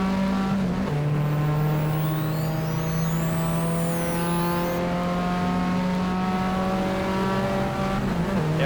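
Race cars on a video-game circuit scream down the main straight, one loud engine climbing steadily in pitch through the gears while other cars whine past overhead, a continuous close roar with no voices.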